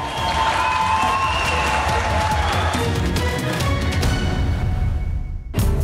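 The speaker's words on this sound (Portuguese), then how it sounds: "os profissionais da saúde eram aplaudidos em janelas e varandas pelo país." Crowds applaud health workers from windows and balconies, a dense, steady wash of distant clapping and cheering that carries on without letup before cutting off abruptly.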